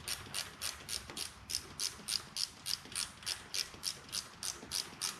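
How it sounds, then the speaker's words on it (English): Craftsman ratchet wrench loosening rocker box bolts on a 2004 Harley-Davidson Road King Twin Cam, a steady run of about fifteen sharp ratcheting clicks in even rhythm, close and alone. "These are just Craftsman ratchet wrenches"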